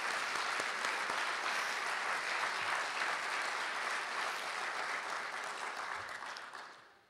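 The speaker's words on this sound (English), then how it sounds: "Stand up and we'll give you an applause." A conference audience at a closing session of an annual scientific meeting gives sustained, even applause that holds steady for several seconds before fading out at the end.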